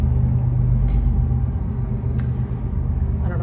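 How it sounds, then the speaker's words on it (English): A steady low rumble of a train passing close by a house, constant and heavy throughout, with a couple of faint higher squeaks over the drone. "That's a train right by my house."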